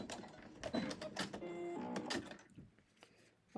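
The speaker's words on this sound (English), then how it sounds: "So let's take this back over to the machine. Sew it on" A sewing machine stitches quilt fabric for a micro crumb quilt block, running in a steady mechanical burst for about two seconds before stopping, with quieter handling sounds afterward and no talking.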